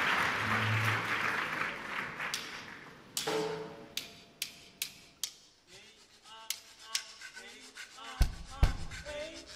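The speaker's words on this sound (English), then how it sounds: "Please give her a round warm of applause." Audience applause at a leadership ceremony, starting as a thick burst of clapping that quickly dies away into a few scattered isolated claps and small knocks, with brief voices near the end.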